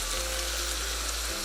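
Beef keema with yogurt and ground green chili frying in a karahi, a dense steady sizzle up close for a brief stretch, with no talking.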